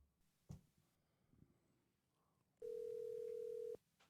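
A telephone call ringing through on a podcast line, one steady electronic tone held for about a second after a few small clicks and faint background noise.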